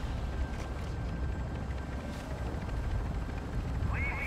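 A helicopter in the video game DMZ gives a steady, low, droning rumble that holds throughout, with a brief voice near the end.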